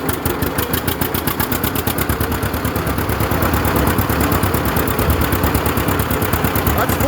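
A 1937 unstyled John Deere A tractor engine runs at full throttle, a loud, steady rapid chugging beat from the two-cylinder engine that keeps going for the whole span, growing slightly louder, with no talk over it.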